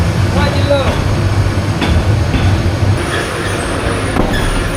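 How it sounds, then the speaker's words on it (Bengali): The Parjatak Express rolls into Chattogram railway station with a low, heavy rumble, a thin high wheel squeal running above it and brief voices heard near the start. "8 মিনিটের দেরিতে পর্যটক এক্সপ্রেস চট্টগ্রাম রেল স্টেশনে প্রবেশ করলো।"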